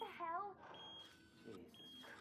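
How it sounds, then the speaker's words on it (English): An electronic alarm beeps steadily in the video game Watch Dogs 2, a thin high tone sounding faintly under a voice speaking over it. "Better go check the alarm."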